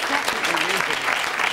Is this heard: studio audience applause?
yes